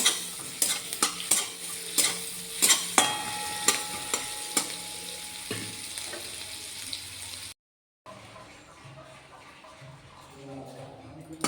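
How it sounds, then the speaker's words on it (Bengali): Minced garlic and green chilli fry in melted butter in a wok, with a spatula scraping and clanking loudly in bursts over a sizzle. After a brief cut, a quieter, steadier frying continues. "এগুলো বাটারের উপরে একটু ভাজা ভাজা করে নেব।"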